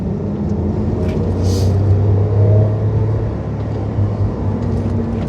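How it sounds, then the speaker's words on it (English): The engine of a 2008 Honda Acty kei truck with a manual gearbox, geared low, drones steadily at high revs as the vehicle drives. The rumble stays loud and even throughout, with no voices. "Something about it being a manual and revving really high and geared really low."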